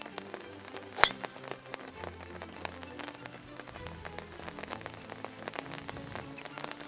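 Rain patters steadily on a golf course at Whistling Straits, a dense scatter of drops with one sharp loud crack near the start, all fairly faint and distant.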